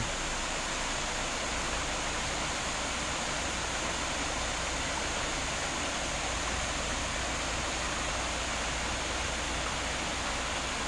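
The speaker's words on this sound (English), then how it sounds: "That's where the creek goes back under the ground." Creek water at McConnell Springs rushing where it flows back underground, a steady, dense, close wash of flowing water that holds unbroken the whole time with no voices.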